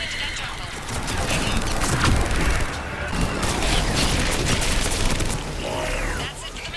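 Missiles are fired in Mass Effect 3 during a battle: a dense barrage of booming launches and rapid cracking impacts rolls on continuously and loudly, with voices speaking in the mix.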